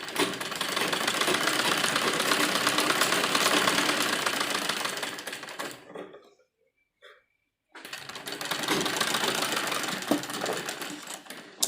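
Sewing machine stitching lace along the edges of a heavily worked suit, a loud steady run of rapid needle strokes that stops briefly in the middle, then resumes at full pace.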